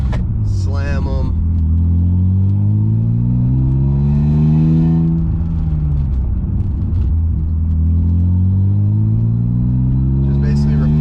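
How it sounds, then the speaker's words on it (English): A BMW E36 328is engine rises and falls through repeated acceleration runs during a brake-bedding drive, a loud, close cabin drone that swells and dips, with someone talking throughout. "So now it's time to bed the brakes."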